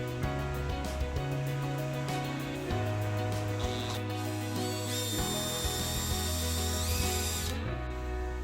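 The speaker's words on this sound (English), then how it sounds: "So now the pilot holes are drilled." A power drill boring pilot holes for a duck-bill spoiler on a Corvette, the motor whining in steady bursts that shift pitch as the bit bites and eases, close up and alone.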